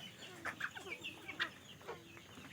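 Listless chickens on a poultry farm in winter cluck softly in short, scattered calls, heard faintly at a modest distance over a low background hum.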